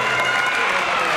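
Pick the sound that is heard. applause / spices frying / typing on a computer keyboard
applause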